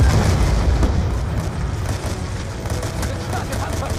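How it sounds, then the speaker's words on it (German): A grenade explosion in the video game Call of Duty Black Ops 2 delivers a loud, deep boom with rolling rumble and debris noise, while a voice talks over the game sounds. "Vorsicht, Granate!"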